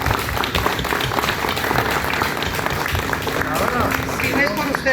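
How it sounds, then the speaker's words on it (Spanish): An audience at a Colombian political campaign event claps for itself, a dense, continuous round of applause and crowd noise with voices carrying over it. "desen un aplauso a ustedes mismos"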